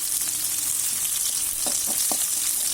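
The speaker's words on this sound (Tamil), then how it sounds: "சின்ன வெங்காயம் நல்லா வதங்குற அளவுக்கு வதக்கி விட்டுருங்க" Shallots and green chillies sauté in a hot pan of oil for a spicy anchovy dried-fish curry, giving a steady, close sizzle with a few short stirring scrapes near the end.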